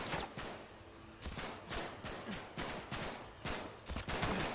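Rapid bursts of gunfire from the video game Uncharted 3, a dense run of loud, closely spaced shots and volleys repeating throughout with no pause, close and alone.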